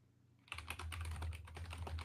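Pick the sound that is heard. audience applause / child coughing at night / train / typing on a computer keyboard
typing on a computer keyboard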